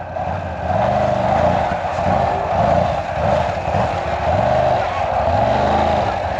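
ATV engine droning steadily while riding off-road through muddy holes in Alaska, rising and falling with the throttle, close and continuous with some talk over it.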